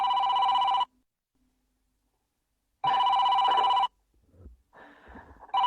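A telephone rings during a live market-update stream, with two long electronic ring bursts separated by silence, loud and close, followed by faint background noise.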